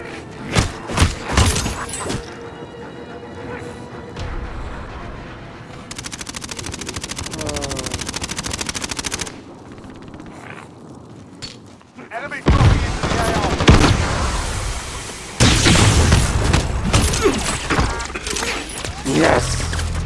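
Bursts of gunfire from the video game Call of Duty: Modern Warfare, set in Verdansk during the Haunting event: sharp shots and rapid automatic volleys in several loud clusters, with quieter stretches and a voice speaking at times.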